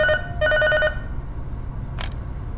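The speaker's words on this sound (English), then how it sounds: "It's just the phone." A telephone in the horror game Five Nights at Freddy's: Devious Mi rings in two short electronic trills, then falls quiet apart from a faint background hum and a brief noise burst.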